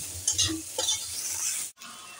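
A metal spatula stirs and scrapes sliced bitter gourd frying in a wok, with a steady soft sizzle under a few quick scraping strokes and a brief pause near the end.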